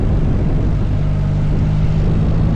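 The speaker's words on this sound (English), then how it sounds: "enjoy the sound of the beamer and quick shifter working in harmony" A BMW motorcycle engine drones steadily under load, a loud continuous roar with a quick shifter working through gears. No voices are heard.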